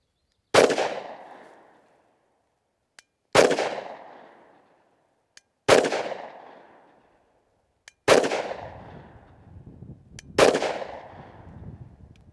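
Firearm shots at a shooting range: five sharp, loud reports spaced a couple of seconds apart, each with a decaying echo tail, the last two with a heavier low rumble, no talking.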